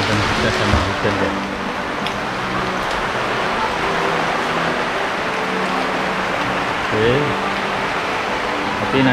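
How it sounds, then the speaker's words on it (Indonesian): Steady rain drums on a newly fitted UV plastic greenhouse roof, giving a dense, even hiss that fills the space from start to finish. "Langsung dites sama hujan guys."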